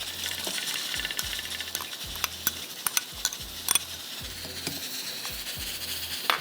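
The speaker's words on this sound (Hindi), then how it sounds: "इसमें आपको 1 कप मोटी मोटी कटी हुई प्याज डाल दीजिए।" Coarsely chopped onions drop into a hot pan and sizzle steadily, with repeated scraping stirs and light metallic clinks of a spoon against the pan, close and clear with no talking.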